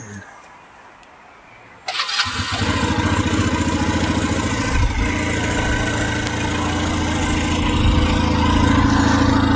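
A Junak M11 motorcycle engine cranks after a quiet start and fires up, then settles into a steady, loud, close idle that carries to the end.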